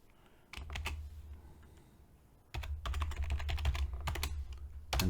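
Password being typed on a computer keyboard, a quick burst of key clicks near the mic, a pause, then a longer run of steady keystrokes ending with a sharper final tap.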